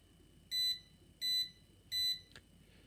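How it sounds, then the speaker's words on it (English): FastLED RGB exercise clock signalling the timer's end with three evenly spaced short electronic beeps, fairly loud against a quiet background, followed by a brief click. "it will flash and beep to let you know that the"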